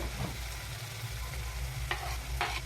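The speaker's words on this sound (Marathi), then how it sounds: "या मसाल्याच्या वाटणला सुद्धा छान असं परतून घ्यायचं आहे आणि शिजू द्यायचं आहे" Spice paste for a Maharashtrian chunvadi curry being stirred and sautéed in a pan, giving a steady low sizzle under soft scraping, with a couple of sharper spatula clinks near the end and no talking.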